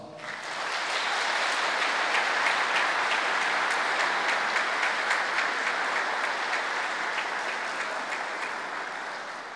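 Steady, full applause from an audience at a mayoral candidates' debate in Boa Esperança, rising quickly, holding evenly, then tapering slightly at the end.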